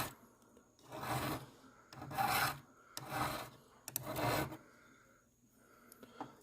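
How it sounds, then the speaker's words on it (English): A file rasps flux off a wire bracelet in four slow, firm strokes, each a close gritty scrape separated by brief pauses, no talking. "You can see all the flux that I'm basically just filing off here."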